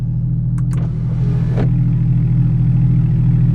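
A straight-piped 3.8L Porsche 911 engine heard from inside the cabin, a steady low droning rumble with a deep hum that holds throughout, while a couple of faint higher clicks and a brief whoosh pass over it.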